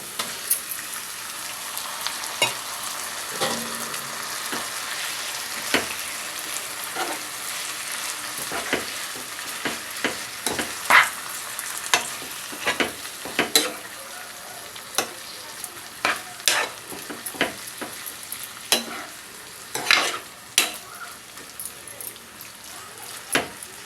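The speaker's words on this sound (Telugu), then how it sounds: "టమాటా మెత్తగా మగ్గింది. ఇప్పుడు దీనిలో మటన్ కీమా వేసేద్దాం." Mutton keema frying with softened tomatoes in a pan, a steady close sizzle broken by frequent sharp scrapes and clicks of stirring throughout.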